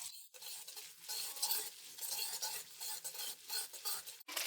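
Garlic ginger paste frying in half a cup of ghee in a karahi, a steady close sizzle with scraping spoon strokes stirring through it, no voices.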